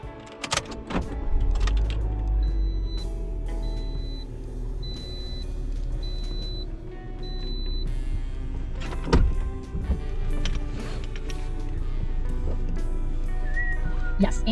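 Someone getting into a car: a door handle and door clunk, rustling and shifting on the seat, power-window whirrs and a few thumps, close and fairly quiet over a low idling rumble.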